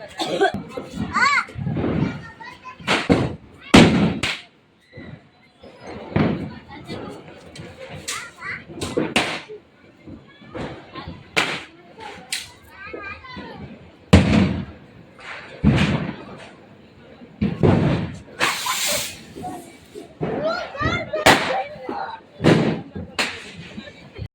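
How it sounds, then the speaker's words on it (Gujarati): Diwali firecrackers and rockets burst outdoors in a string of sharp, loud bangs and thuds at irregular intervals, mixed with children's voices and playful chatter. "છોકરા ફોડે જ ફટાકડા"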